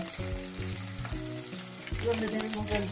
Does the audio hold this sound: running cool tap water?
no